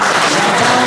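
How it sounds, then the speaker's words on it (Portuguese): A congregation at a festive Catholic Mass applauds in church, a steady, dense clatter of hand claps filling the whole moment at close range. "Uma salva de palmas."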